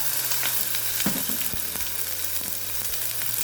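Frozen cheongyang chili peppers frying in heated cooking oil, a steady dense crackling sizzle with scattered sharper pops and a low background hum, close and continuous without any talking.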